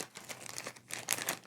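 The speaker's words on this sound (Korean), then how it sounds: "지퍼백을 열고" A plastic zipper bag is pulled open before acetone is poured in, giving close, crinkly crackling and ticking of the seal in quick bursts.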